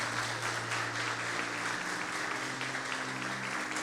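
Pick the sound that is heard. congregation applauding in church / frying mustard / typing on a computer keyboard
congregation applauding in church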